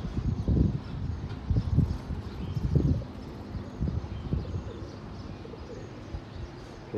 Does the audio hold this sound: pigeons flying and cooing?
yes